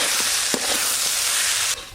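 Vegetables fry and are stirred in a pan, a loud continuous sizzle with a few scraping stirs before it cuts off near the end.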